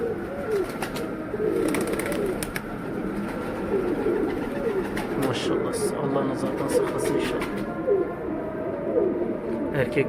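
Wild pigeons coo repeatedly at close range among tumbler pigeons, soft rolling calls overlapping one another with a few sharp clicks and rustles of movement in between.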